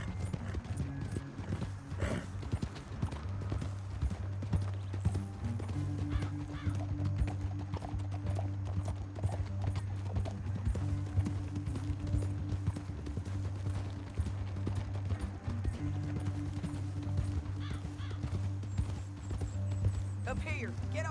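Horses galloping in the Western video game Red Dead Redemption 2, a steady, close clip-clop of hooves with occasional snorts and whinnies running continuously, with voices talking over it at times.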